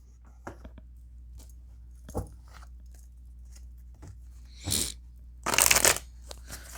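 Tarot cards being worked out of a tight, awkward box and shuffled, with scattered small taps and slides and then two louder riffling bursts near the end. The handling is close and no one speaks.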